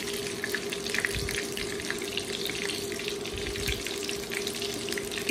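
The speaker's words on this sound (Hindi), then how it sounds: "यहाँ पे नगेट्स फ्राई हो रहे हैं स्लो फ्लेम पे, ताकि अंदर तक पक जाए अच्छे से" Chicken nuggets frying in a pan over a slow flame, giving a steady, dense sizzle and crackle that runs through the whole stretch without a pause, with no talk over it.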